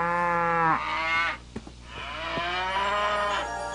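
Cartoon cows moo in long, loud, drawn-out calls, one after another, with a few soft knocks in between; no talking.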